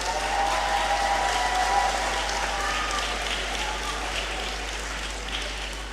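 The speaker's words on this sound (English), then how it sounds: "A round of applause for yourselves" Audience at a university graduation ceremony applauding new graduates, a continuous hall-filling wash of clapping over a low steady hum, with some faint voices mixed in.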